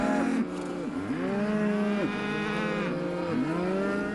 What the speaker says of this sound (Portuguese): Ele viu uma vaca visivelmente desesperada.